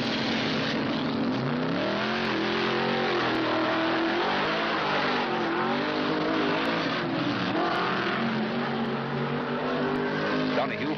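Javelin race car pulling out of the pits at the 1970 Trans Am race at Watkins Glen, engine revving and climbing through gears, mixed with other race cars passing, under an announcer's narration.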